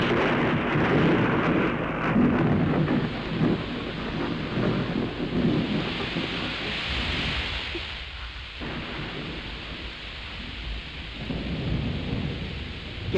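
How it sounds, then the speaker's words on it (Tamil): Thunder rumbles over a sudden outdoor downpour. Heavy rain hisses steadily throughout, with a deep roll of thunder and a brief lull near the middle. "என்ன இப்படி திடீர்னு மழை வந்துச்சு?"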